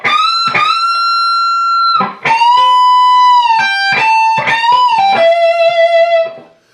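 An electric guitar plays a sustained, distorted lick, sliding into a high note on the second string and catching the first string, with long held bends, brief picked notes and a clean cut-off.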